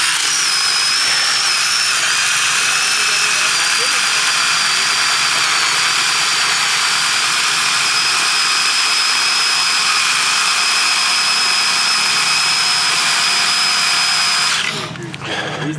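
A Tie Talk mini chainsaw runs at a steady high-pitched whine while clearing a storm-blocked trail in Colorado, holding level and loud for about fourteen seconds before cutting off abruptly.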